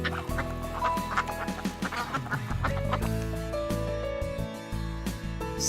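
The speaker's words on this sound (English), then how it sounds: "Is that a flock of ducks?" A flock of birds near a lake calls out in a busy, overlapping chorus of clucks and honks at close range, loud and continuous with no speech.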